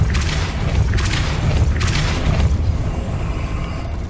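Depulso spell cast in the video game Hogwarts Legacy, a series of deep booming whooshes with bursts of bright hiss, repeated several times over a constant low rumble, loud and close.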